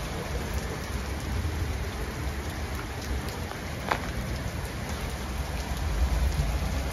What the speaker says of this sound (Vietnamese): Đây là một cái cảnh chiều mưa ở miền Tây Melbourne. Mùa hè lại có mưa. Mưa đá nữa chứ.